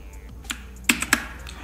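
A few sharp, separate key clicks from typing on a mechanical gaming keyboard with RGB LED lighting, struck in a short, uneven burst close to the microphone in an otherwise quiet room.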